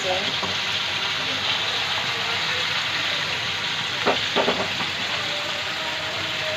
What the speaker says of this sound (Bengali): পোয়া মাছটাকে তেলের উপরে ছেড়ে দিলাম এটাকে আমি ভেজে